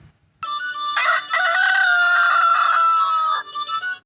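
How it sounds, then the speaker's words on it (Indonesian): A rooster crows one long, loud, harmonically rich cock-a-doodle-doo lasting nearly three seconds, close to the listener, followed by a brief clucking tail. "Ayam. Bagaimana suara ayam?"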